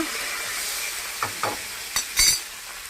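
Curry leaves, cumin and dried red chilies fry in hot oil for a tempering: a constant close hiss broken by a few quick spoon scrapes and stirring clatters, with no voices.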